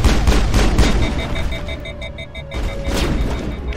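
Rapid gunfire bursts from a Mass Effect firefight, loud repeated shots in a dense volley with booming impacts and electronic tones over continuous battle noise.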